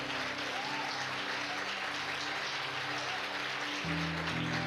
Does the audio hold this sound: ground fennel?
no